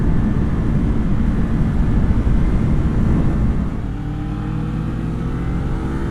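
A Kawasaki Ninja 400 motorcycle engine drones steadily and loud while riding, a dense continuous engine roar with wind rumble that eases slightly in pitch and level partway through.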